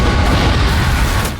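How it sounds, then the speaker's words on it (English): Bombs detonate inside a restaurant in a monster movie, a loud sustained rumbling blast with heavy low-end roar that fills the whole moment and tapers slightly at the end. "Jack suddenly revived and detonated the bombs in the restaurant"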